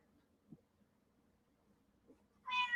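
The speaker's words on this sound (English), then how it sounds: "she's over there meowing now" Mitzi the cat gives a single short, fairly loud meow near the end, after a couple of faint soft noises in an otherwise quiet room.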